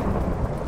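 Thunder rumbling from a lightning strike during a rainstorm in a video game, one short, steady, loud, low roar with rain noise and no talk.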